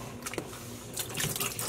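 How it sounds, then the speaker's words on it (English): Excess water is gently poured out of a dyepot holding acid-dyed wool roving, giving a short, soft splashing trickle with a few drips, close and fairly quiet. "I am going to gently pour out this excess water"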